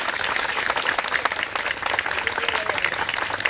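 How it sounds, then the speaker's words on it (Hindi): A group at a physical training academy bursts into loud, dense applause, continuous clapping from many hands close by, with no talking. "ताली मार दो जोरदार।"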